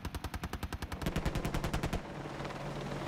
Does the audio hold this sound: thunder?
no